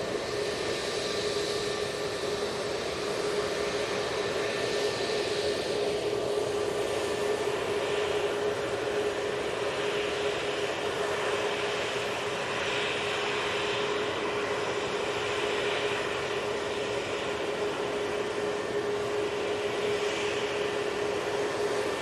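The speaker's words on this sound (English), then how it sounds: "Gulf Air 787-9 Dreamliner." A Gulf Air Boeing 787-9 Dreamliner at Manchester Airport gives off a steady, unbroken jet roar with a faint tonal whine, holding a constant level throughout.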